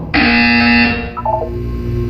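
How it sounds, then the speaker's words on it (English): A loud electronic buzzer from the video game Portal 2 sounds as one sustained tone for about a second, then gives way to a softer, lower descending chime. "When you hear the buzzer, look down at the floor."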